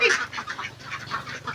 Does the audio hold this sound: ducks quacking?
yes